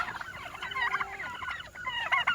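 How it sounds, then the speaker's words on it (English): A flock of guinea fowl on a farm calls in dense, harsh chattering cries, close and continuous throughout the short stretch. "Look at those guineas. Those guineas are so weird."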